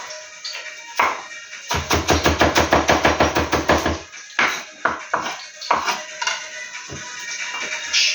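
Knife chopping onions for a Pakistani chicken curry: a fast, steady run of crisp taps on a board, about a dozen in quick succession, followed by a few slower, scattered chops.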